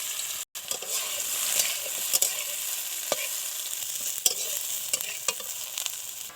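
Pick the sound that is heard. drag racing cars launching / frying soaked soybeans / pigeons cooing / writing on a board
frying soaked soybeans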